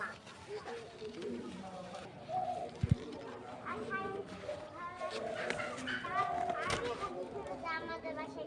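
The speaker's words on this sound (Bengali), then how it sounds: "কত পাখির বাচ্চা" Baby birds chirp and call in a rooftop garden, their short repeated cries close by and mixed with people talking throughout.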